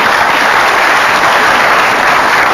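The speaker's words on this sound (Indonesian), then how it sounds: "kita beri tepuk tangan untuk kedua kandidat" Loud, continuous applause from a studio audience at a televised debate between two Jakarta gubernatorial candidates, a thick unbroken roar of clapping filling the whole stretch at steady intensity.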